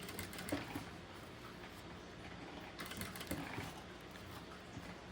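A sewing machine runs steadily while stitching bias binding around a curve on a small document holder, a quiet continuous mechanical whir with faint rhythmic ticking.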